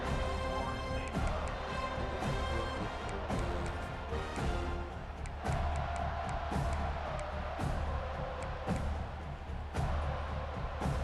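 A home crowd roars and cheers in a college football video game, California at Florida State, a dense, sustained stadium din with rising swells and scattered claps and shouts throughout, heard fairly faintly.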